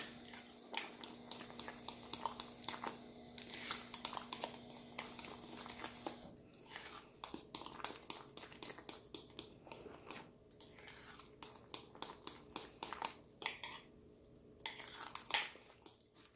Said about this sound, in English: So I'm going to mix this up good.